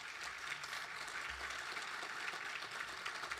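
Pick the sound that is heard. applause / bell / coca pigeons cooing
applause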